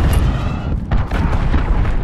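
In the Call of Duty Modern Warfare game, a cruise missile explosion produces a loud, heavy boom with rumbling low-end blasts and debris crackle that fills the whole moment.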